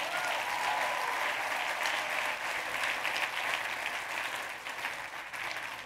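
A live audience applauds loudly at a motivational talk, steady dense clapping that holds for several seconds with no speech over it.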